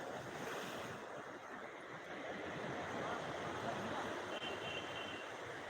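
Ocean surf rolls in continuously on Digha beach in the evening, a steady broad roar of breaking waves with wind rushing across the microphone, loud and unbroken throughout.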